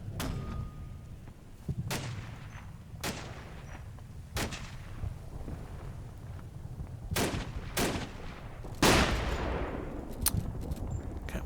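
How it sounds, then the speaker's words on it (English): Scattered mortar and gun reports in the Normandy wargame Combat Mission: Battle for Normandy. Sharp, sparse blasts come every second or two over a low rumbling battlefield background, with one heavier booming impact near the end. "wasting mortar rounds and trying to spot one guy"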